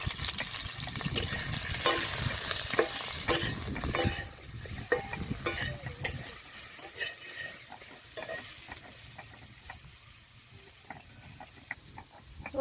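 Boiled vegetables seasoned with salt and turmeric fry in mustard oil, a steady close sizzle with frequent spoon stirs and scrapes that gradually thins out over about thirteen seconds, with no talk.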